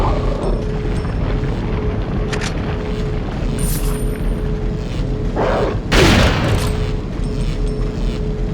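Gunfire and heavy booms from the Resident Evil 4 video game, with a loud burst near the end over a steady noisy game background.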